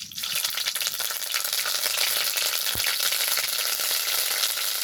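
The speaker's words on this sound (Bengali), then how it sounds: "দেখো ফোড়নটা খুব ভালোভাবে ভাজা হয়ে গেছে" Whole spices tempering in hot oil for a vegetarian potato, pointed gourd and paneer curry, giving a steady, dense sizzle that runs without a break. One soft low knock sounds near the middle, and no one speaks.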